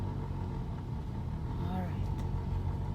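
Car engine humming steadily through a driving lesson, a low continuous rumble with a faint rise as gas is applied, with people talking over it throughout.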